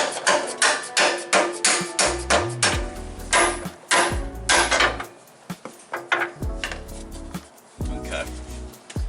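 Repeated loud hammer blows on metal while installing a Panhard correction kit on a third-generation Toyota 4Runner, struck in quick bursts with pauses, sharp clanks ringing out close by.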